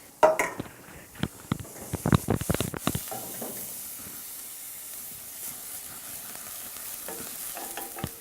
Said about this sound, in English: So we put in the onions, you sweat them or you saute them depending on the language of preference.